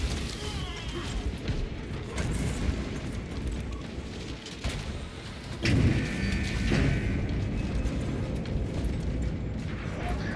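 Ranged weapon fire and explosions rumble through a video game battle, a dense, continuous wash of booms and crashes with a heavier impact near the middle, sustained and fairly loud throughout.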